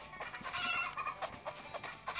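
Chickens clucking in the Stickman Party video game, a run of short squawks and clucks at moderate level, busy and overlapping, with no talk.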